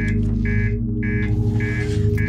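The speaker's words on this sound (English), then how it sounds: "Can I turn this alarm off? I get it. There's damage." The ship damage alarm in Outer Wilds beeps in loud, pulsing bursts about every half second over a low engine hum, with no voices.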